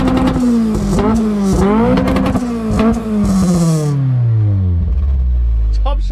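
A modified street car engine with a big exhaust pipe revs loudly up and down, the pitch rising and falling in several sweeps before winding down, close by and dominating the scene.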